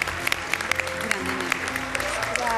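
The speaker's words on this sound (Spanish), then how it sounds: "yo quiero pedir un fuertísimo aplauso" Clapping rises from a studio audience for Natalia Duco on a televised competition, with sharp individual claps standing out over a crowd, and voices and tonal sounds layered underneath.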